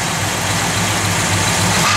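A 1969 Dodge Coronet R/T V8 with a mild cam idles steadily nearby, a smooth, even low rumble with no revving and no voices.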